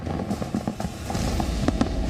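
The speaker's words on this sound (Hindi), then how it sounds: "आतिशबाजी कर रहे थे।" New Year fireworks crackle and pop in scattered bursts at a distance over a steady low rumble.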